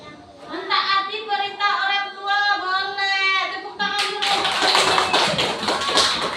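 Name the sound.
children clapping hands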